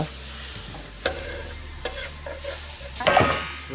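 Potatoes fry in a pan over a village cooking fire, with a soft steady sizzle broken by several scraping stirs and a louder burst of stirring near the end, heard up close with no talk.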